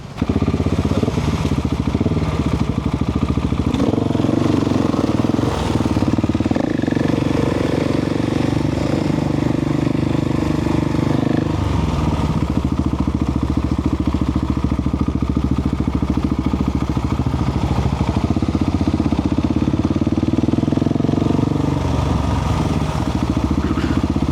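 A KTM supermoto motorcycle engine runs steadily up close, a loud continuous mechanical drone with some clatter and small shifts in revs.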